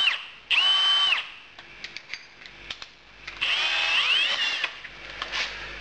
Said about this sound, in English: And all you need to do is just drill through.